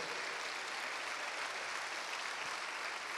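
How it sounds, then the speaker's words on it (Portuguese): A church congregation claps steadily throughout a Sunday night service, with dense, sustained applause filling the room and no pauses. "eu sei que você pode dar palmas muito mais fortes"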